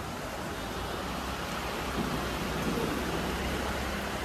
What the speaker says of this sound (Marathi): आमच्याकडे पाऊस येतोय